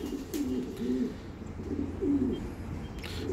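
Pigeons, a mix of new and older young birds kept by a breeder, cooing in soft repeated throaty calls, several coos in a row at moderate distance with no talking.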